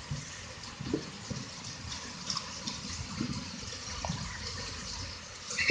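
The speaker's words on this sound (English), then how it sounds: "it's raining pretty hard" Heavy rain pours steadily outside, a dense wash of water noise that holds fairly constant and moderately loud, with occasional small thumps and no talking.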